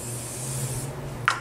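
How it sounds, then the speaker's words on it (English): A soft, continuous hiss of a spray mist for about a second, followed by a quick rustle, up close and otherwise quiet. "You may spray your face."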